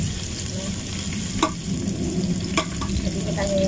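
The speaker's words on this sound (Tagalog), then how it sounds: "Inggisan natin yung sibuyas guys." Onions sauté in a pan with a constant close sizzle, punctuated by a few spatula scrapes and knocks against the pan.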